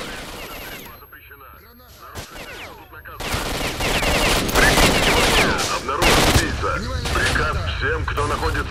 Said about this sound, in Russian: Прекрати стрельбу!